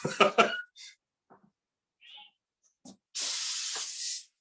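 A few brief voice fragments, then raw beef slices hit a pan with a steady hissing sizzle that rises for about a second before cutting off.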